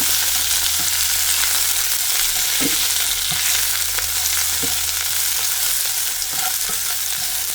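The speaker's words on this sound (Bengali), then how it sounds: "হালকা আছে, এটার একটু ভাজা করবো এখন" Bottle gourd leaves fry in hot oil with a constant close sizzle, broken by recurring scrapes and clicks as a utensil stirs them. There is no speech.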